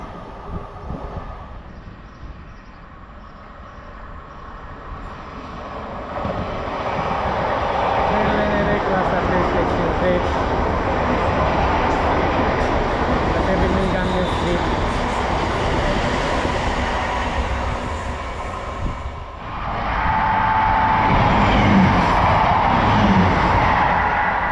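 An LNR Class 350 electric multiple unit passes through Stechford station, a loud sustained rumble and rail roar building after a few seconds, holding steadily, then swelling again with wheel and track noise as the carriages go by.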